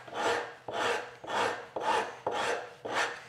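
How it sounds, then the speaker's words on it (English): A coarse woodworking rasp files a wooden edge in six even, rhythmic strokes, each a close, dry, scratchy rasp separated by short gaps, heard alone without speech. "So I'm using a rather coarse rasp."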